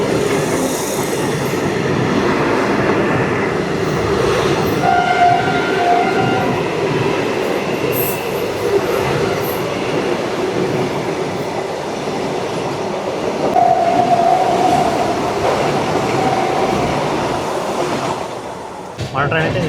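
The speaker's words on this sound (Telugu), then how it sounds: "Vande Bharat express train." A Vande Bharat Express running between Visakhapatnam and Secunderabad rumbles steadily at close range, with wheels rolling on the rails and a couple of thin high squeals from the wheels rising above the even roar.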